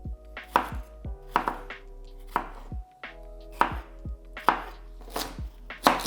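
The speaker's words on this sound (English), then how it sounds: "Next, we're going to slice celery stick at an angle." Knife slicing a celery stick at an angle on a cutting board, eight crisp, evenly spaced chops close up, each a sharp snap, with no talking.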